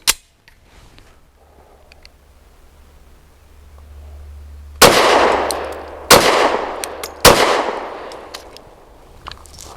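A Rost Martin RM1C pistol fires Blazer aluminum 115 grain ammunition: after a faint start, three loud, sharp shots ring out about a second apart, each with a short echoing decay.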